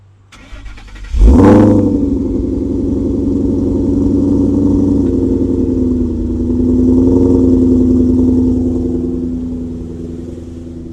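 A supercharged 2011 Ford Mustang GT V8 cold-starts after a brief crank, flaring loudly, then settles into a high, steady idle with a couple of gentle swells in engine note, heard up close with no talk.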